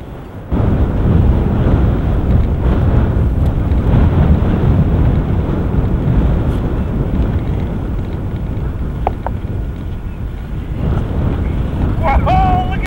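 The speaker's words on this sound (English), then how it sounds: "Listen to the wind." Cold Arctic wind in August gusts hard across the microphone in a loud, continuous roar that swells and eases slightly, with faint brief sounds near the end.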